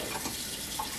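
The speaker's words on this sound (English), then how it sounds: "I'm going to start by adding a gallon of water in here." A gallon of water runs from a tap into a pressure canner being readied for jars of citrus jelly, a brief continuous splashing pour with no talk.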